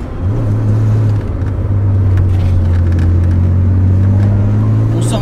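Porsche 911 Carrera 2.7 RS Touring engine pulling hard out of a corner, a steady loud drone that holds and builds in pitch as power climbs, close and continuous with no talk.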